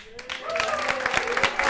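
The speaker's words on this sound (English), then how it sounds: "Keep that applause going" Theatre audience applauding a variety show act as it takes the stage, a dense steady wash of clapping with a tonal voice or cheer rising through it, lasting under two seconds.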